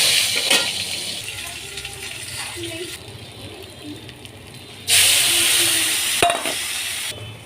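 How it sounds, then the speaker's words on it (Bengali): Washed Gobindobhog rice dry-frying in a pan over medium heat, a steady close sizzle and rustle with occasional stirring scrapes, growing louder halfway through. "তাপটা মিডিয়াম করে চালটা ধুরো ধুরো করে ভেজে নেব।"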